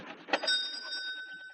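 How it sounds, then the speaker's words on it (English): A shop door bell gives a single bright tinkle as a radio drama sound effect, its metallic ring hanging on and fading over soft background rustle. "Shop bell tinkled"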